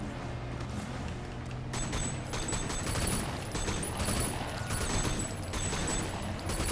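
Gunfire in the video game Sleeping Dogs: a continuous dense clatter of shots and mechanical noise fills the scene at moderate level, with no voices.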